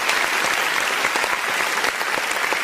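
Dense applause from a crowd, many hands clapping in a steady, loud burst that continues throughout without voices, resembling a stock sound effect.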